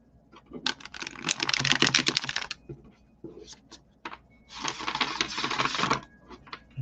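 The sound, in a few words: shuffling tarot cards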